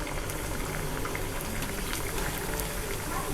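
Prawn vadai deep-frying in oil over a medium flame, a dense, even bubbling sizzle that is close and constant throughout.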